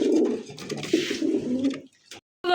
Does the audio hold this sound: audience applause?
no